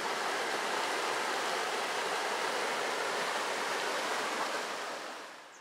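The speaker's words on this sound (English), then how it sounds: "Looks like the water overflowed." Floodwater rushes down from a mountain and overflows the banks, a steady broadband roar of churning water that holds constant and then fades slightly at the end.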